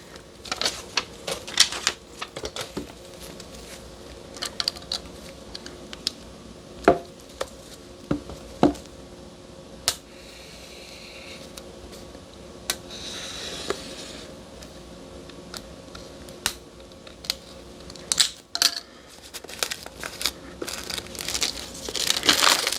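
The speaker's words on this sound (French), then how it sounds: "je vais le déballer pour vous montrer à quoi ça ressemble" Crinkling plastic and cardboard as white Insta360 Flow smartphone stabilizer packaging is opened, with sharp clicks, taps and rustles scattered irregularly throughout, close and fairly quiet.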